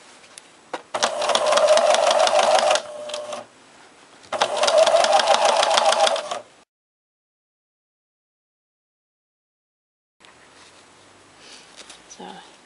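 Sewing machine stitching fur fabric pieces, two loud bursts of rapid mechanical whirring, each a couple of seconds long, separated by a short pause, followed by silence and then faint handling noise.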